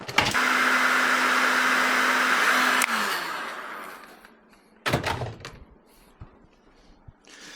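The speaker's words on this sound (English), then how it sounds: "I might actually do this with my heat gun" Heat gun blowing hot air over heat shrink tubing on subwoofer wiring for a Nissan Z, a steady loud whooshing roar with a faint hum for about three seconds, then a click as it shuts off and fades, followed by scattered handling knocks.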